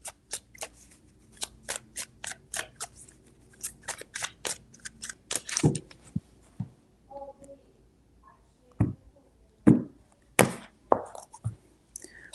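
Tarot cards are shuffled by hand in crisp, quick riffles and slaps, a series of sharp taps at first, then several heavier bursts of card handling, close and clear with no talk.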